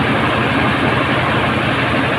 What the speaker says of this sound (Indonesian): Satu mesin penggilingan kasar.